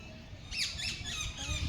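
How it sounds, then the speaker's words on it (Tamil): Brief, fairly faint squawks and chirps of birds, including a heron and ducks, calling by the River Thames in Kingston, London, rising over a low outdoor background rumble. "எப்படி பாரு பேர்ட்ஸ் எல்லாம் கத்துறது"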